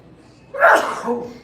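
A single sharp sneeze from someone in the arena during a curling match at the 2023 Arena Nationals, bursting out loudly over quiet background and trailing off briefly.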